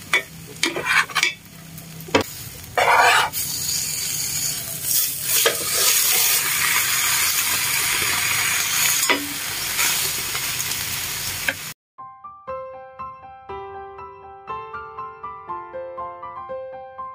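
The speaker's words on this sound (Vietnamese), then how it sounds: "Mình chiên chín với thịt." Meat frying in a pan during home cooking, with loud crackling sizzle and clanks of a utensil stirring against the pan for about twelve seconds, then cut off by background music.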